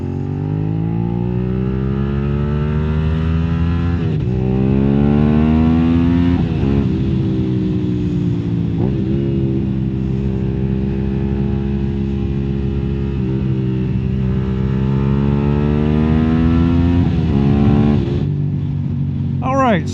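Suzuki SV650 motorcycle on Continental Road Attack 4 tires, its engine droning steadily with repeated rises in pitch as it accelerates through the gears, loud and close throughout the ride, with a voice talking over it.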